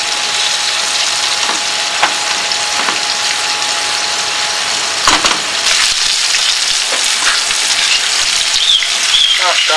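Fish fries in a pan for a fish plachie dish, a loud steady sizzle and crackle of hot oil with occasional sharper spits and scraping stirs, no talk over it.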